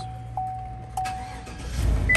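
A Chevrolet Silverado pickup is started with the key: a steady warning chime tone and a couple of clicks come first, then a low rumble builds as the engine cranks and catches near the end. It is close inside the cab, with no talking.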